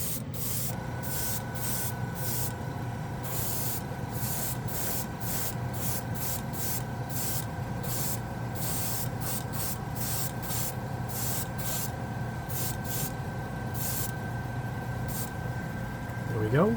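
SMS metallic metal color paint spraying from a spray gun in steady bursts, repeated short hisses over a constant low background hum, close and moderately loud.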